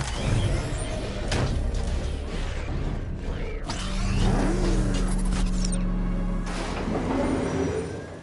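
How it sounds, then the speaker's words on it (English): A vehicle drives in a Batman video game, its engine droning steadily with mechanical creaks, whirs and a rising tone partway through, game effects layered on top and no talking. "I need to get the car into the area before I can use it."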